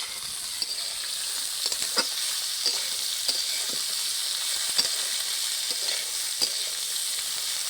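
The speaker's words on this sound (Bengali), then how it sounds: "তেল দিয়ে দিচ্ছি, ভেন্ডি ভাজবো। ভেন্ডি আলু ভাজা।" Okra and potatoes fry together in hot oil, a continuous crackling sizzle punctuated by light scrapes and taps of a stirring spoon throughout.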